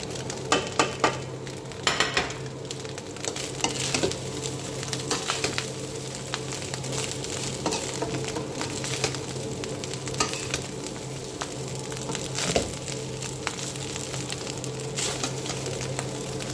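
Rice frying in a hot pan with chilli powder, salt, cumin powder, masala and pepper powder, a steady loud sizzle with scraping stir strokes and a few clinks early on, no voices.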